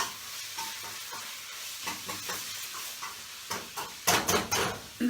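Thai green curry paste sizzles and fries in a pan while being stirred, with a soft hiss and irregular scraping strokes that grow louder near the end.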